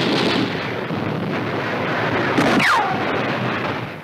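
Gunfire from entrenched enemy positions in South Pacific jungle warfare, heard as a continuous roaring wash of noise on an old wartime film soundtrack, with a sharp blast and a falling whistle partway through.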